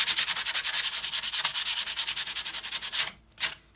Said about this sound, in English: I'm just gonna lightly sand all of this excess off.